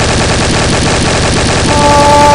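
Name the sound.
loud gunfire in Garry's Mod video game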